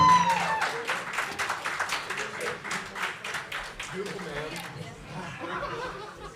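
Scattered clapping and cheering from a crowd at a live tribute concert in Portland, fading gradually as chatter and a few laughs take over.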